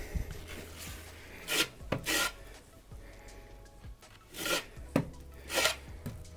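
A tool scrapes and rubs rhythmically, close up, as sticky epoxy adhesive is spread for marine vinyl flooring inside a camper van, in several repeated strokes with quieter pauses between them.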